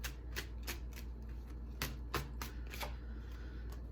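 Tarot cards are shuffled and drawn close by in a quiet room, making a run of quick, crisp riffling snaps and papery flicks in an uneven rhythm.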